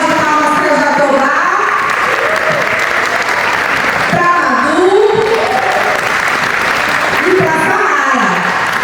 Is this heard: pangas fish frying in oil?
no